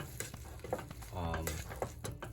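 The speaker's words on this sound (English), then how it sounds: "Stir it up." A utensil stirs food in a sizzling frying pan while Parmesan is added to the dish, with scraping strokes over a steady fry, close and moderately loud.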